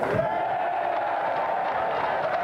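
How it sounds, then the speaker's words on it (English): Studio audience on the 1992 television game show GamesMaster cheering and clapping for the champion, a steady crowd roar of whoops and applause heard from the room. "And a round of applause for our champion, Chevron Hart!"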